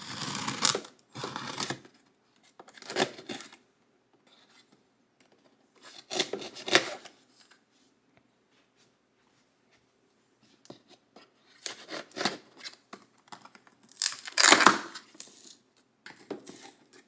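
Cardboard outer carton of an MSI Stealth Studio 14 laptop being cut open with a blade, in separate short scraping and slicing bursts with quiet pauses between, close and moderately loud.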